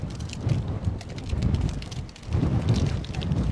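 Strong wind buffets a microphone at a long pier at low tide, a steady rough rumble that surges and eases in gusts, with no talking.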